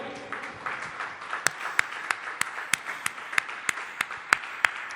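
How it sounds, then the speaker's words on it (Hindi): A church congregation applauds with a diffuse crowd clap under a strong, regular rhythmic clap that keeps an even beat of sharp, close hand strikes throughout. "ताली बजाओगे?"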